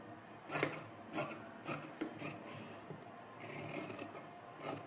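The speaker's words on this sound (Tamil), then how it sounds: "இப்போ இந்த எக்ஸ்ட்ராஸ் எல்லாம் கட் பண்ணி விட்டுக்கலாம்." Excess fabric being cut while tailoring, soft repeated scissor snips and rubbing cloth in a quiet, close series of about eight strokes, with no talk.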